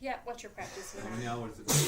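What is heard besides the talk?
sneeze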